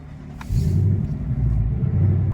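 A 2019 Ford Mustang GT with the GT Performance Pack fires up and settles into a deep, loud rumbling idle with a slight rev, close by and with no talking.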